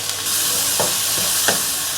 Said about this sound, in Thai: เรามาคนให้เนื้อมันเข้ากัน